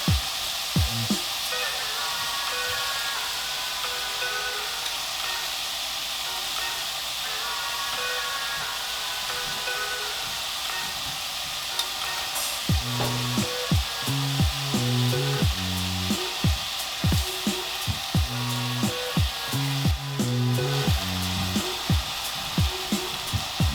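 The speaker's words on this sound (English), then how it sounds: "We're going to add in our pinto beans and squeeze out the lime juice" Pinto beans and squeezed lime juice hitting a hot pot while cooking chicken adobo, a steady soft sizzle and hiss throughout, with clinking wooden stirring knocks in rhythmic clusters during the later half.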